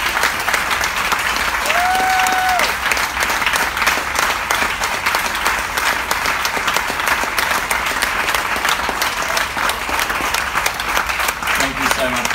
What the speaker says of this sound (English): Everybody give a round of applause, please, all together.